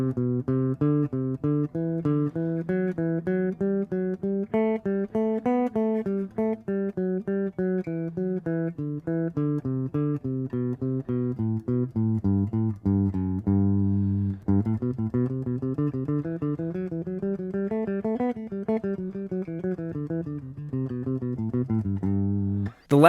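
An instrument runs a major scale exercise in groups of four, a long, unbroken, smooth stream of sustained notes climbing and descending in steady sequence for over twenty seconds, close and alone with no speech.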